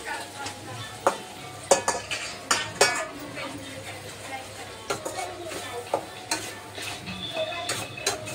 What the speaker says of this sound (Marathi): छान प्रकारे परतून घेऊया.